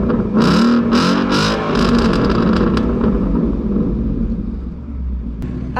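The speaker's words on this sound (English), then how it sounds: "we do need some shots of cars revving" Supercars rev their engines, several loud throttle blips in quick succession early on, then a deep rumbling idle that fades slightly before a final sharp burst.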